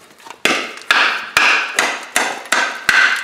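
A hammer pounds on rusty metal in eight sharp, evenly spaced blows about half a second apart, each ringing loudly before it fades, with no talk.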